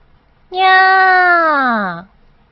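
A cartoon cat meows once in a kids' word-learning app game, a single loud, drawn-out meow lasting about one and a half seconds, falling in pitch at the end, heard alone and close.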